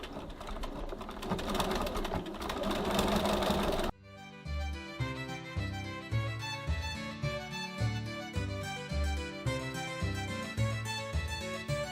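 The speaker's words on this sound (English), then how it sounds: "I'm stitching right close to where I stitched last time, not exactly on it but right next to it" A sewing machine runs a steady seam on a tote bag at stitch length 2.6, first as a continuous whir, then as a rhythmic run of close, loud mechanical thumps.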